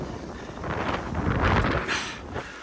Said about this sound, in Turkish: Rüzgar var gürültüler var.